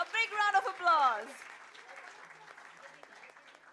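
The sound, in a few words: audience applause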